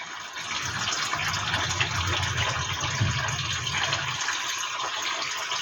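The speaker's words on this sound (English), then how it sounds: "then we'll drain the coolant" Coolant drains from the radiator of a Hillman Super Minx during a cooling system service, a steady, close gushing and splashing of liquid that runs continuously for several seconds before easing slightly.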